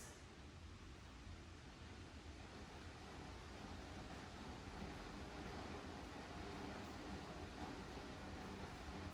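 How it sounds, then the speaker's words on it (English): Steady broadband rush of heavy rain pouring outside, continuous and fairly loud, with no voices over it. "It's starting to pour outside. I don't know if you guys can hear that."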